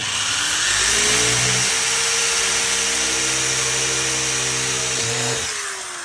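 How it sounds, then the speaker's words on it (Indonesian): A power drill fitted with a 6 mm bit bores holes for body bolts on a Ninja 250 motorcycle, its motor whining steadily and loud for several seconds before spinning down at the end. "Ini mata bornya yang kita pakai mata bor 6 mili ya, ini buat baut yang ini tuh"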